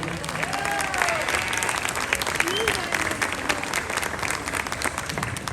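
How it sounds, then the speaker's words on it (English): A crowd at a pee-wee lamb showmanship class at a state fair applauds in a steady, dense patter, with voices and calls mixed in and a few animal or crowd sounds rising above the clapping. "Let's have a round of applause for an excellent round."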